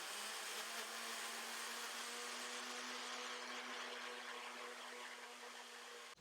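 A kitchen blender blends cream and Red Bull with a steady, high-pitched motor whir that runs for about six seconds and then cuts off abruptly.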